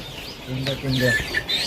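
A colour broiler chicken gives a few short clucks close up, amid some brief nearby voices and handling noise.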